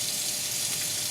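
Hot water runs from a faucet into a cast iron skillet, a steady broadband hiss and splash that stays even and fairly soft for its short length.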